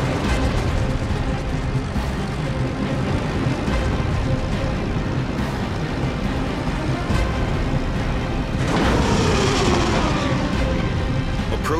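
Incoming fire and explosions in World of Warships, a dense continuous rumble of booms and blasts with a sharp, brighter explosion burst near the end, loud and close.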